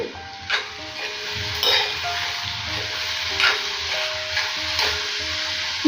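Tomatoes cook down in a pan for a spice-laced curry with fennel, sizzling steadily while a spoon stirs and mashes them with repeated scraping taps. The sound is close and continuous, and nobody talks.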